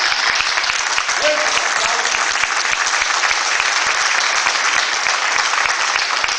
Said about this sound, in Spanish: Un aplauso para Chela y para todos los integrantes de la organización Guaraní